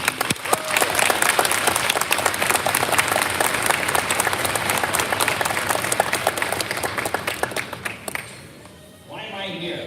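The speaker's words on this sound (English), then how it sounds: "Please join me for a round of applause for the brilliant kids and their directors at this time." Applause from a school audience at a middle school band and orchestra concert: loud, dense clapping and crowd noise that fills the room, then thins and fades near the end as a voice starts speaking.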